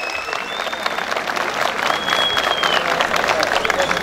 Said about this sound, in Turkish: Ekibim için de ayrıca bir alkış istiyorum lütfen